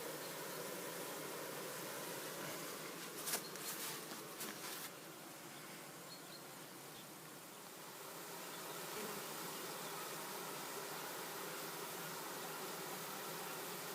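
A steady, dense buzz of many bees fills an apiary among flowering linden trees, continuous and close, with a few brief louder swells near the start and no voices.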